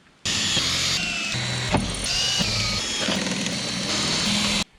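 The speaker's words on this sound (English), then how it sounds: "What we're gonna do is grab our drill bit and go to town." A power drill whines steadily as a bit bores holes into a Jeep JKU's body for corner armor, a loud continuous high buzz broken by brief pauses and a sharp snap midway.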